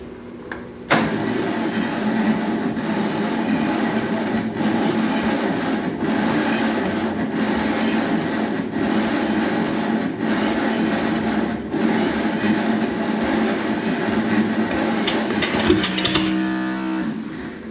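A 1955 Ferguson TEA20 tractor engine cranks over steadily with a rhythmic, repeating churn for a long stretch, then stops without catching.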